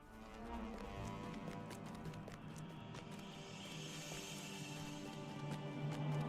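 Horses in a fantasy video game, rapid hoof clip-clop across the whole stretch, fairly faint and steady, with a soft game ambience underneath.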